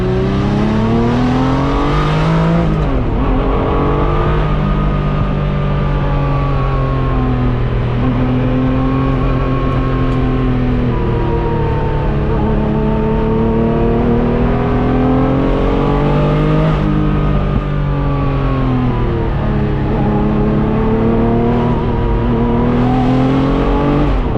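Pagani Huayra BC or Bugatti Chiron supercar engine accelerating, loud and close from inside the cabin, with rising revs through several gear changes marked by brief dips, a continuous roar with no talk.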